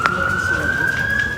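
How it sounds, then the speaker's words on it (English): Emergency vehicle siren at night in Queensland during a fire, a single sustained wailing tone slowly rising in pitch, moderately loud under low background rumble. "As the sirens pierce the night"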